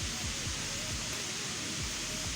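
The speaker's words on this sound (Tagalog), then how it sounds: "malakas ang alon ng tubig. Hindi niyo masyadong marinig ang aking mga salita." Strong water waves rushing nearby, a loud continuous broadband roar of churning water that fills the whole clip.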